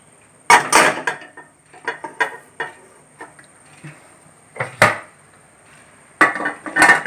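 A few sharp metallic clanks and knocks as a pot is set down and shifted inside a pressure cooker, separated by brief quiet gaps.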